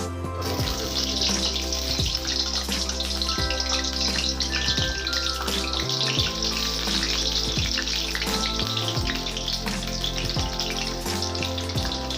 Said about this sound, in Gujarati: આપણે જે હવે કારેલા છે અને તેલમાં આપણે 5 થી 10 મિનિટ સુધી થોડા તળી લઈશું